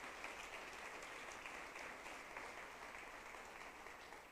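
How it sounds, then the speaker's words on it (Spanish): Church congregation applause, faint and distant, a continuous even wash of clapping with no voices over it. "Sí, puede aplaudirle."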